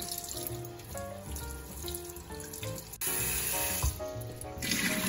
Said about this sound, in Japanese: 水とビネガーに30分つけておいた肉を取り出しきれいに洗い流します